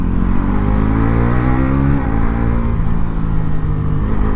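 Bajaj NS 400 Z, a 350cc naked motorcycle, ridden through the gears with a steady loud engine drone, pitch climbing then dropping at a shift midway before rising again, close and continuous with no talk.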